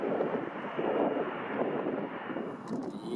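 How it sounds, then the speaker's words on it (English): A Boeing 767-200 landing with spoilers out and thrust reversers deployed gives a steady, broad engine roar that stays loud and continuous throughout, with wind rumble and no voices. "float our 767-200 down and throw out those spoilers. Crank out those thrust reversers."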